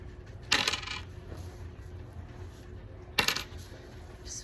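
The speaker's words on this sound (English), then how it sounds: "Only I'm dropping pennies and quarters." Pennies and quarters drop in two separate bursts, each a short, bright metallic clatter close by, set against a quiet background hum with no voices.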